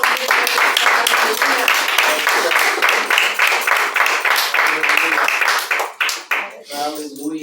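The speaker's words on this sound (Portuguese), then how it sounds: "Vamos aplaudir o Jesus" A worship congregation claps loudly in a dense, rhythmic burst that thins out near the end as a voice takes over.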